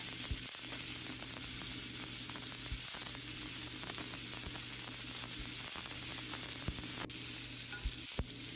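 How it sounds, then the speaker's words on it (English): Lebanese makanek mini sausages sautéing in a large skillet over medium heat, a steady close sizzle and fry with occasional sharp clicks and scrapes of stirring and flipping, no voices. "Add the ma'ane and saute over medium heat for about 8 to 9 minutes, making sure to flip every few seconds."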